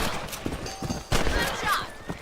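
Rifles fire in the video game Red Dead Redemption. There are a few sharp, loud cracks, with one strong blast near the middle, over busy game background noise.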